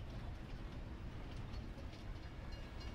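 A train rolls past in Farming Simulator 22, a dense, steady rumble of wheels and carriages with faint rhythmic clatter, continuous and fairly quiet from start to finish.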